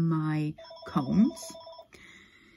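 Telephone rings with short electronic chime tones in an indoor craft room, heard under and around a person talking.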